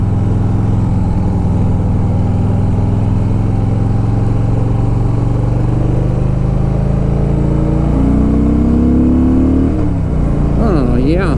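A 2007 Harley Davidson Softail Deluxe riding on the freeway, a loud, close engine drone with rising pitch under acceleration and a gear change near the end, over heavy rushing noise.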